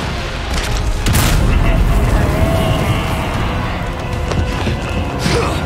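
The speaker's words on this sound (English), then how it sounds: "If this is not a good time for a rocket launcher, I don't know when is a good time for a rocket launcher" Rocket launcher fired in Resident Evil 4, a loud, sustained roaring blast with booming rumble throughout, dense and close, followed by a lingering explosive wash.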